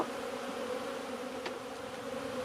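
Honeybees buzz in an opened hive in December, a steady, close, continuous hum of many insects with no voices.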